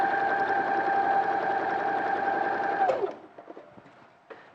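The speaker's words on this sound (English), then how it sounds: "So I'll just sew along there." A sewing machine runs steadily while stitching along a pinned piece of fabric, a continuous close mechanical whir that stops abruptly partway through, leaving a few soft handling clicks and rustles.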